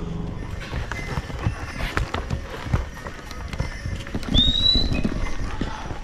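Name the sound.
donkeys' hooves clopping on a mountain trail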